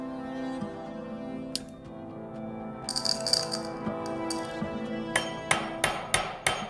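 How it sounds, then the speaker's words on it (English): Hammer blows on steel mail rings, flattening their overlapping wire ends: a quiet stretch, then a run of sharp metallic strikes arriving in quick succession, several close together near the end, over a steady low background hum. "So I've flattened the overlapping ends of the ring and I've pierced a hole through it."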